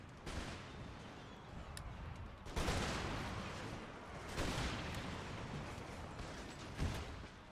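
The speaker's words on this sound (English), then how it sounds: "You're taking heavy fire from them, that's fine." Musket volleys and artillery fire crackle through a battle in Empire: Total War, with bursts of gunfire swelling repeatedly over a constant roar of combat noise at moderate distance.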